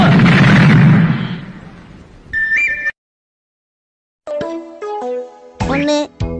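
A firecracker goes off with a loud, broad bang that fades over about two seconds. After a short silence come bursts of bright tonal sound, like music or voices.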